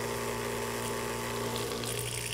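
A water pump on a homemade solar heat pump for a paddling pool primes and draws water, giving a steady, loud mechanical hum mixed with rushing, gurgling water throughout, with no talking.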